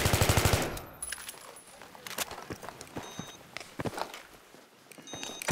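Gunfire in a team-based video game shooter, with bursts of rapid automatic fire and scattered single shots, interleaved with footsteps, all fairly faint and without talk over it.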